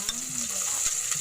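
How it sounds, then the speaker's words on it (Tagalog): Garlic, onion and ginger sauté in a pan in a rural kitchen, a steady bright sizzle with a few soft scrapes of stirring, close and moderately loud. "Gigisa na ng bawang, sibuyas at luya."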